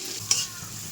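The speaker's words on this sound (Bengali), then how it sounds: "পেঁয়াজগুলো ভাজা ভাজা হয়ে গেলে" Oil sizzles steadily in a pan of chopped onions with salt and turmeric, with a brief scrape of stirring near the start, close and moderately quiet.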